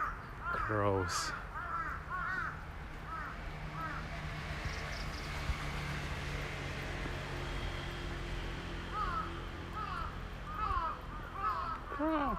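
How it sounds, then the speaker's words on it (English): Crows caw repeatedly in a Tokyo park on a sunny day, several harsh calls near and farther off, some overlapping, over steady low background rumble and occasional voices. "Crows."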